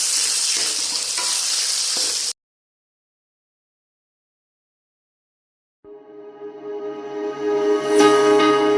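Tomatoes fry in a pan with salt for an Assamese fish dish with mustard and ridge gourd, a bright sizzle that stops abruptly, then after silence a humming tone rises with clattering that grows louder.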